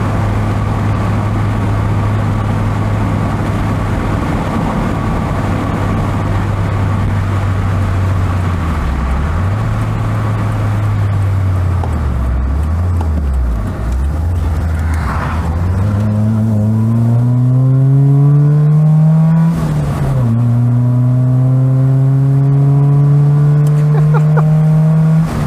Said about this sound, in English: Oh man, this is an entertaining little motor car.